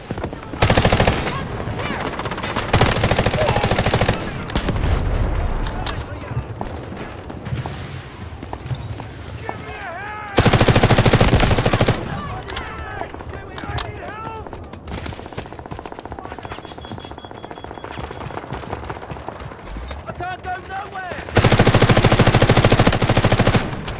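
Video game gunfire, bursts of rapid automatic shots loud and close, separated by quieter stretches of game sound effects and faint voices, with gunfire returning at the end.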